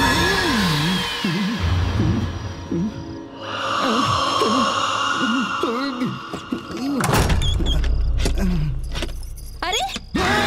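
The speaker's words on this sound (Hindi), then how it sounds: "ये 8 बजे दरवाजा काहे बंद कर रहल बाड़े?" A door is shut at night indoors, giving a solid thunk amid scattered knocks and rattles, with people speaking before and after it.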